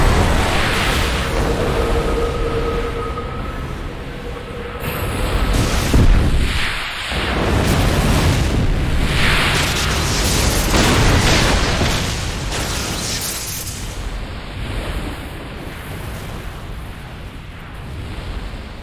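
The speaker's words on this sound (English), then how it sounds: "All ships fire!" Ships in an anime battle fire their weapons, producing loud, sustained booming explosions that rumble continuously for nearly twenty seconds, with heavier blasts swelling around the middle and no talk over them.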